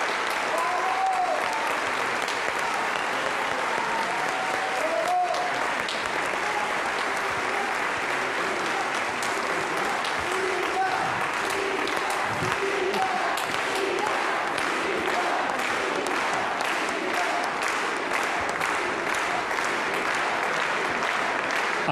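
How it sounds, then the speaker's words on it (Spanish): A standing ovation at a tribute to actress Silvia Pinal: a large audience claps continuously and evenly for a long stretch, dense and sustained without letting up. "Un aplauso de pie para nuestra gran diva."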